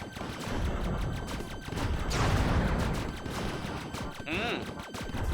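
Guns fire rapidly in the clay-styled shooter game Platypus Reclayed, a dense rattle of shots and explosions with a few rising whooshes. A player talks excitedly over the noise.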